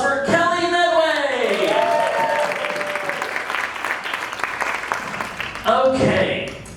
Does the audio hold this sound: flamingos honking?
no